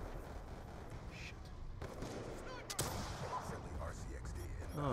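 A rocket launcher fires and explodes in Call of Duty Black Ops 2 on the Nuketown 2025 map, with two sharp blasts standing out over constant game noise and scattered gunfire, partly under some voice.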